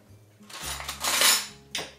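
A spoon scrapes and clinks against a dish while a serving of chicken and rice is scooped out, a few close, quiet metallic knocks and scrapes with no talking.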